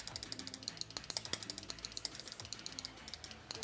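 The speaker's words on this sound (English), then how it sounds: "it gives a little bit of a hollow feedback when you are clicking" Rapid, crisp clicks from the optical switches of a SteelSeries Prime Wireless Mini mouse repeat in an uneven run, each a sharp hollow tick, close and fairly loud with no talking.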